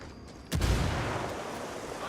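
A frag grenade explodes in the video game Ghost Recon Wildlands: a single sudden heavy boom, close and loud, followed by a long rumbling decay.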